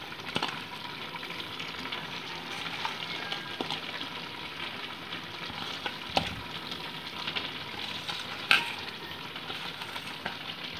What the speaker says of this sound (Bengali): এবার আমি ভেজে রাখা মাছগুলো এর মধ্যে অ্যাড করে দিচ্ছি